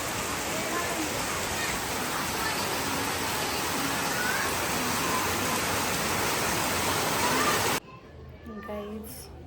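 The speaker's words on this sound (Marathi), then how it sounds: "पहिला पाऊस पडला आमच्या इथे" The season's first monsoon rain pours down in a dense, loud, continuous hiss with children's voices faintly mixed in, then cuts off abruptly to quieter background sounds and a voice near the end.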